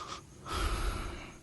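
A person imitates mouth breathing with two loud, airy breaths close to the mic, a short inhale and then a longer rushing exhale.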